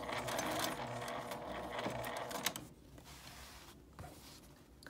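A sewing machine stitches the seam of a fabric zipper pouch, whirring close up for a couple of seconds before stopping, followed by quieter mechanical clicks and handling.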